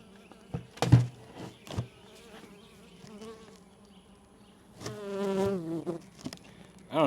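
Honeybees leaving an absconding hive buzz close by in bursts, with a few loud passes near the ear and a sustained swarm drone that swells midway, over a quiet background.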